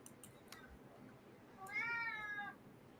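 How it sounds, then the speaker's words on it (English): A cat cries to be let back indoors, one drawn-out meow heard clearly near the end, with faint taps and quiet background before it. "I'll let the cat back in because she's crying even louder to get in"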